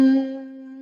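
A single steady hum on one sustained pitch during a breathwork exhale, starting firm and close, then easing slightly softer as it holds, with no other sounds.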